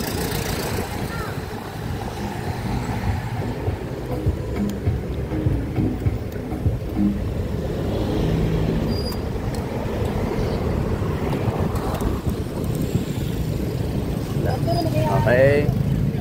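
Congested road traffic with cars and buses near Ecoland bus terminal in Davao City, a steady low rumble of engines passing nearby, with someone talking over it throughout.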